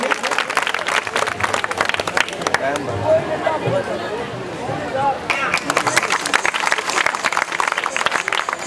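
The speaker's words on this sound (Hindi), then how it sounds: "आप लोग भी तालियां बजा दीजिए इनके लिए" Audience clapping at an urs fair in Topkhana Bazar, Cantt, Lucknow, a dense steady patter of many hands filling the whole stretch, with crowd murmur and a voice briefly showing through in the middle.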